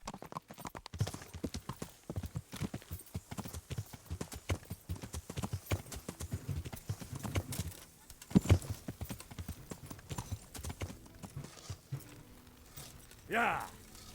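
Horse hooves clip-clopping in the video game Kingdom Come: Deliverance, a steady faint rhythmic trot of clops with a louder thud partway through and a brief snort near the end.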